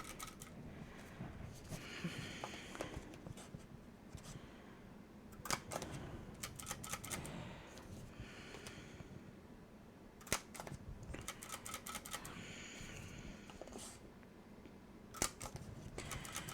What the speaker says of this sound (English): now I'm just centering that in a 1/4 inch hole punch and punching it